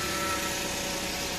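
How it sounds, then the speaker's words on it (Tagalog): Suzuki DA64W with a K6A engine whose turbo scrapes, giving a steady droning whir with a rough grinding edge, close and continuous through a short stretch. "Murag turbo nga nagsayad."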